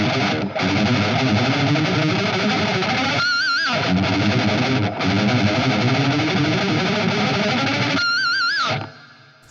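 A heavily distorted electric guitar churns through a palm-muted chromatic blues riff in G, played loud and dense with a couple of brief pauses and a bent note.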